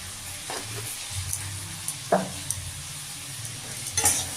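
Potato and eggplant with chili powder, Kashmiri chili and turmeric are stirred in a pan, with a quiet sizzle under scattered scrapes and clinks of the spoon.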